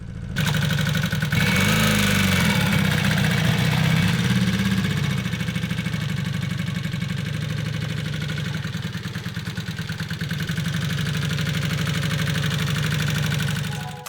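A rebuilt Honda CB250 Super Dream motorcycle engine runs close by, revving briefly at first and then settling into a steady, throbbing idle that continues throughout.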